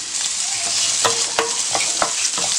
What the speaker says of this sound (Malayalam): അപ്പോൾ നമുക്ക് ചുവന്നുള്ളി ഇട്ട് കൊടുക്കാം